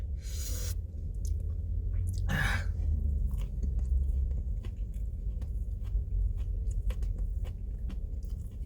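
Close-up chewing and biting sounds during a mukbang, with wet crunches and several sharp bites early on, then steady soft mastication continuing alone.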